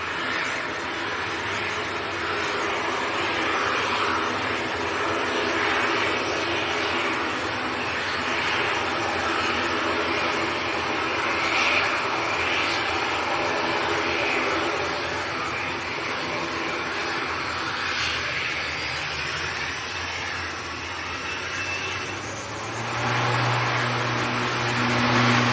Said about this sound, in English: Noisy little ATR going back to Dublin.